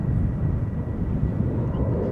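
A KLM Boeing 737-800, first flown in 2000, roars steadily during parallel departures at Amsterdam Schiphol Airport, a continuous broad engine rumble with no talk.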